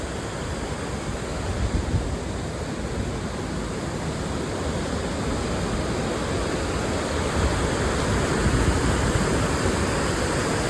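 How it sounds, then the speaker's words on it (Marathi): Napne waterfall in Konkan roars steadily and loudly, a dense, unbroken rush of falling water with no voices over it. "नापणे धबधबा."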